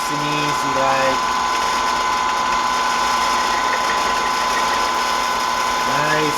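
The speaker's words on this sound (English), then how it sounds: "You're boring with an end mill, which they are designed to do that" An end mill bores into a fuel tank with a steady, high whirring machine tone, continuous and close, with brief bursts of tonal squeal at the start and end.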